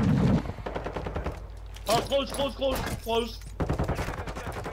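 Rapid bursts of assault rifle gunfire in Call of Duty: Modern Warfare II during a ranked Hardpoint match, loud and repeated, mixed with players talking over it.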